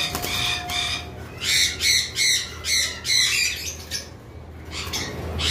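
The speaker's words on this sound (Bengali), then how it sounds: "খুব সুন্দর মার্কিংয়ের একটা জোড়া পাখি।" A pair of pet birds, a white female and a yellow-faced male, squawk loudly in a run of harsh repeated calls at a bird farm, with brief pauses between bursts.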